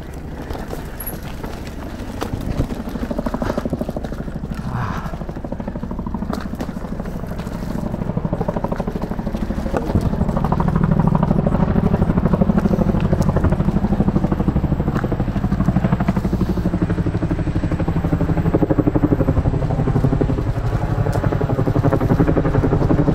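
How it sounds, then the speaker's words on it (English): A Chinook twin-rotor helicopter passes nearby, a steady loud low rumble and throb of rotors and turbine that swells slightly louder midway and holds alone without talk. "There are many chinooks here today."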